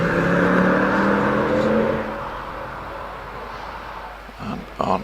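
A big estate car on a rally hillclimb course, engine droning loudly as it powers uphill, then receding into a quieter rumble with a few sharp clatters near the end.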